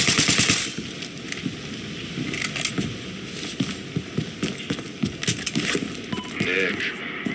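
Gunfire in the Battlefield Hardline video game, loud bursts of shots and impacts crackling over a busy game soundscape for several seconds.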